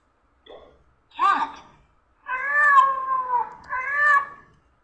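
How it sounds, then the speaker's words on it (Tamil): A recorded cat meowing, played back as an animal sound: a short call, then a longer drawn-out meow and a final one, clear and close against a quiet background. "பூனையா?"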